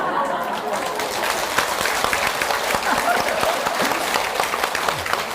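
An audience at a Buddhist lecture applauds with continuous, lively clapping of many hands, mixed with faint murmurs and chuckles, held at a steady level for several seconds.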